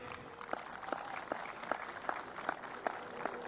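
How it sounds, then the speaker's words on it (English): A crowd at a Little League 50th anniversary opening day claps outdoors, faint and distant, with a few sharper individual claps standing out at a loose, regular pace. "hope that you guys give them a round of applause"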